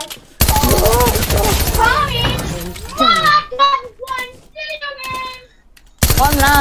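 Rapid automatic gunfire in the video game Fortnite sounds as loud, dense bursts at the start and again at the end, with someone talking excitedly in between.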